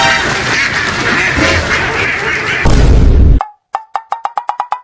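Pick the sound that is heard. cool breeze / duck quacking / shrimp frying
duck quacking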